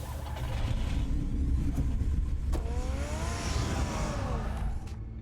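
A car engine revs in the video game Batman: The Telltale Series, a steady loud rumble under a rising, sweeping whine that climbs midway and then tapers off.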